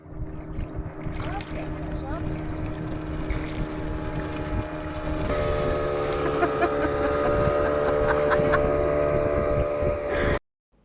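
A small motorboat on the reservoir at Maithon Dam, its engine droning steadily with wind buffeting the microphone and water rushing past, the motor growing louder partway through before the sound cuts off abruptly.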